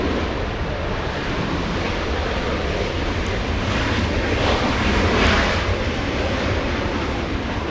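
A Southwest airliner arriving from Houston at Los Angeles International Airport, a loud, steady broadband jet roar that swells slightly as it passes close by, with no voices.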